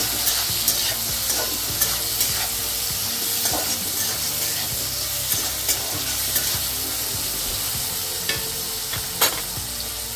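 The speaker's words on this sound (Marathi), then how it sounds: "हे मिश्रण छान हलवून घ्यायचं" A mint leaf and tamarind mixture is stirred in a hot pan, giving a loud, steady sizzle with repeated scraping strokes of the spoon throughout and no voices.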